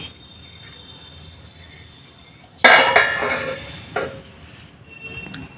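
A plate is set onto a tray of dhokla and flipped over. A sharp metallic clatter lands in the middle, a smaller clink follows, and faint crickets chirp under a quiet kitchen background.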